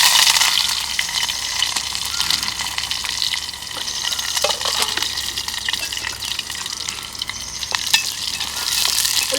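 Chopped onions sizzle in hot oil with cumin, cloves and cinnamon in a pan and are stirred repeatedly, a close bright crackle with scraping spoon strokes and no talking.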